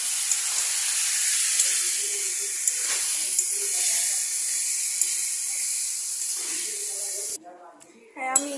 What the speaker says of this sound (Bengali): হ্যাঁ, আমি এঁচড়ের মধ্যে জল ঢেলে দিয়েছি